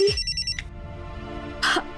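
Telephone bell ringing in a scene from a Hindi television drama, with short electronic ring bursts at the start and again near the end, loud and clear against a quiet background with no one talking.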